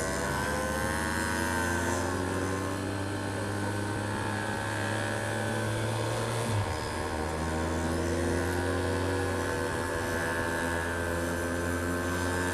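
A 50cc two-stroke moped engine runs steadily and loudly up close, holding a constant droning buzz with a shift in pitch partway through as if the revs change.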